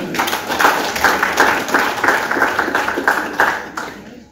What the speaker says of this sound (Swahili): Naomba tuweze kupigia kanisa makofi mazuri.